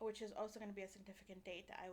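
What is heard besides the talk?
No everyday noises stand out.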